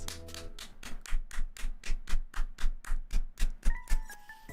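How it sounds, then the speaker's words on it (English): Hands clap in a steady rhythm of about a dozen sharp, evenly spaced claps, moderately close and unaccompanied, with a brief tonal beep near the end. "It's the sound of clapping for a beautiful, artistic performance."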